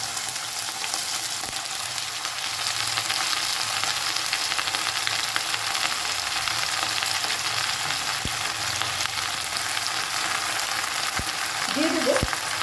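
Chopped bottle gourd fries in a pan with a dense, continuous sizzle that stays loud and even throughout, with a few faint scrapes and a brief voice near the end.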